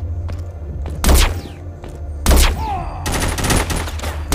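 Gunfire from The Walking Zombies 2 comes in three loud bursts, each a sharp blast trailing into rattling echoes, with the last burst turning into rapid sustained firing over a low rumble.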